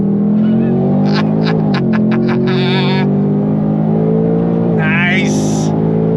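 A 2025 Ford Mustang Dark Horse engine drones loud and close under throttle in second gear, its tone rising and dipping with shifts, while people talk over it.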